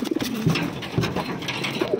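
A large bird gives repeated low, soft cooing calls at close range, several short hoots spaced through the moment with faint background noise and no talk.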